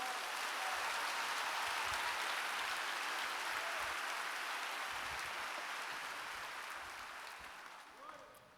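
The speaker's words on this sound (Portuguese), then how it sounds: "Você pode aplaudir o Senhor por isso?" A church congregation at a Portuguese-language worship service claps in a broad, faint roar of many hands that holds steady before tapering toward the end.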